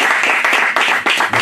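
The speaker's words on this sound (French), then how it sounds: "Applaudissez" A crowd at an acoustic music performance claps in a brief, loud burst, with dense clapping that pulses in a few surges.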